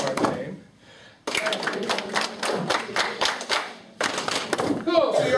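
A group in a lecture room claps hands in rhythm during a name game, bursts of sharp claps between pauses, with voices speaking over and between them.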